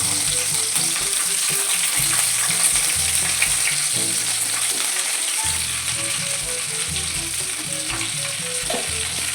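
Mustard seeds crackle and pop in hot oil for an Indian tempering, a loud, continuous dense sizzle with scattered sharp spits throughout and no voices.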